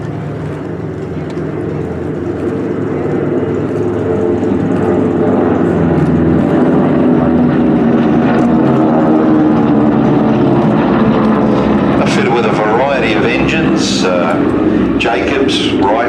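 A vintage Beech aircraft with a 450 horsepower Pratt & Whitney radial engine flies at the Flying Legends airshow at Duxford, its loud, steady propeller drone building and holding, while a commentator talks over the engine noise.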